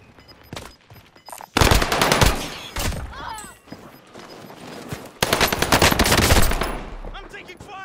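Machine gun fire in a video game rings out in two long, loud, rapid bursts, one early and one later, with quieter sputtering shots between them.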